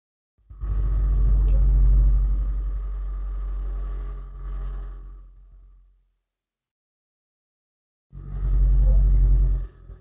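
A 2015 Toyota Corolla Axio Hybrid's engine starts and runs with a loud low rumble for about five seconds, fades to silence, then fires up again near the end.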